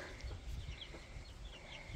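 A few small chicks wander outdoors near a garden plot, giving faint, scattered high peeps over quiet low background noise.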